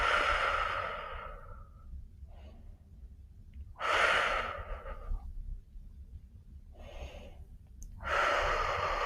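Slow, deep yoga breaths during a relaxation session: long, airy inhales and exhales alternate in unhurried cycles, close and clear against a quiet room.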